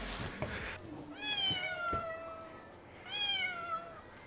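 Several cats meow near the entrance to the Ephesus terrace houses, two clear drawn-out calls with rising and falling pitch separated by a pause, heard close and alone over faint outdoor background.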